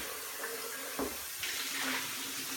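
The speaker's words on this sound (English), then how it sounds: "I'm going to rinse these out really quickly." Tap water runs steadily into a blender being rinsed out, a close splashing gush that briefly thumps and then grows brighter and louder as the stream hits the container, no talking.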